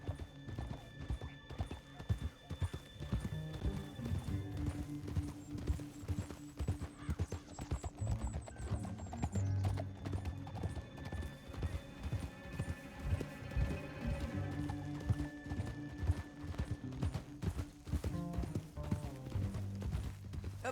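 Horses gallop across a canyon in the video game Red Dead Redemption 2, with dense, rapid hoofbeats running continuously, a whinny and neighing, and a musical score underneath.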